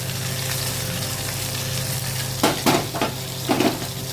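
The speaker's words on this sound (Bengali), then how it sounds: "এই মশলাটা ভাজাই আছে, ভাজবো না, জাস্ট একটু গরম তেলে দিয়ে দিলাম।" Ready-roasted spice mix dropped into hot oil with black cumin and dried chilli, a continuous close sizzle with a few louder clinks of a pan or utensil near the end.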